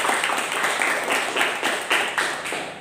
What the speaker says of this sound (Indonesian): kasih tepuk tangan buat Anda dulu